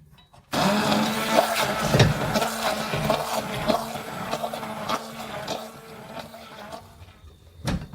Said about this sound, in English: got my hand mixer, blender, emulsifier, whatever you want to call it